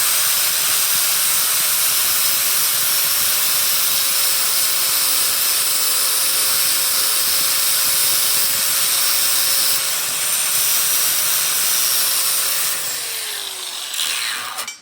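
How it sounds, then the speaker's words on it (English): A flap disc on an angle grinder smooths a notched steel tube for the door bars of a C5 Formula Drift car, a steady high whine and hiss running nearly unbroken and close, tapering off at the end. "we go in with the flap disc and just smooth it out"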